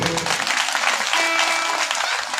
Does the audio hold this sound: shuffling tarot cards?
no